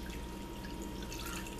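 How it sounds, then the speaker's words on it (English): Water runs and splashes steadily into a bowl, a continuous close pouring sound with light dripping texture throughout. "we're going to add some water"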